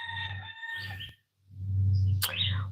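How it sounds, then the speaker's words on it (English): Roosters on a hobby farm crow loudly and close by, with two drawn-out crows separated by a brief silence and a sharp higher call breaking in near the end. "We have so many roosters being loud as heck right now."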